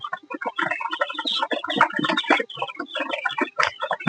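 Many chickens, some of them native (deshi) hens, cluck and chatter close by while feeding in a dense, continuous flurry of short calls, with no talking.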